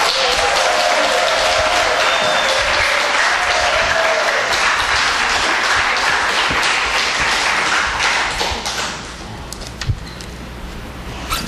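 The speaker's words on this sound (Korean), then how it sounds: "뜨거운 박수로 환영해 주십시오" Warm applause in a church congregation as the pastor comes forward: steady, dense clapping from many hands that holds for several seconds, then thins out and fades near the end, with a few scattered claps trailing.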